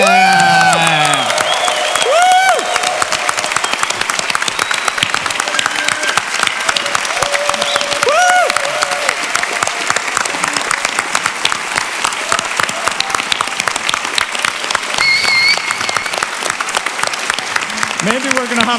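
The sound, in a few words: audience applause and cheering for the Slush 2012 team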